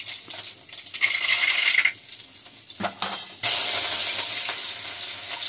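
Cumin seeds sizzling in hot oil in a pan over a stove fire, a steady bright crackling hiss that jumps louder midway as more hits the pan, with no talking.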